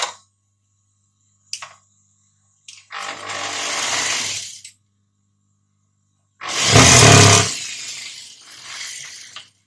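A sewing machine stitching a baby hanky frock runs in two bursts, a longer buzzing run and then a louder, closer one, with brief clicks and silent pauses between.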